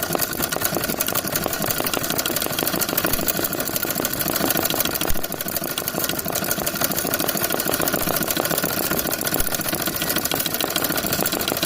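A domestic sewing machine runs fast and continuously, stitching scalloped embroidery with a dense, even mechanical whir close by.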